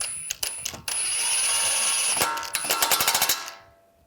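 Ratchet tightening the inner tie rod nut on a 2013-2016 Dodge Dart, close and loud: a few short clicks, a sustained whir, then a fast burst of rapid metallic clicking that fades out.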